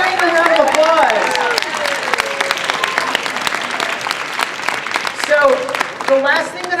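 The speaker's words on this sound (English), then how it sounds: "Give Noreen a round of applause" Audience at a live science demo hour breaks into loud applause, dense clapping from a close crowd mixed with shouts and excited voices throughout.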